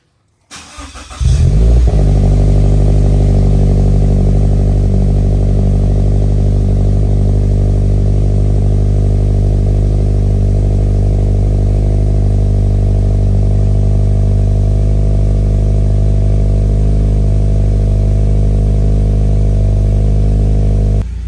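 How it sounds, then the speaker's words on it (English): Subaru BRZ with a stage 1 tune starting from completely cold: a brief crank catches within the first two seconds, then a steady, loud, close idle with a strong low rumble holds for about twenty seconds. "I want you guys to hear how it sounds on complete cold startup"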